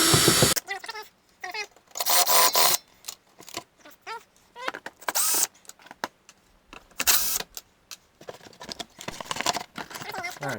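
A power tool spins Torx screws out of the belly pan beneath a VW MK5 with a 2.5 engine, in repeated short whirring bursts close up, interspersed with brief clicks and pauses.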